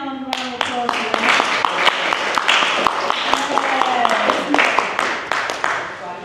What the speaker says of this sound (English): strong hand, round of applause for that.